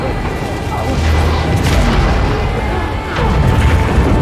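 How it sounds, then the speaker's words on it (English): A deep, rumbling boom from an explosion inside a shield in Dune: Part Two swells and rolls on for several seconds, heavy low-end blast noise with a second surge near the end. "I love that split second where the explosion is happening inside the shield"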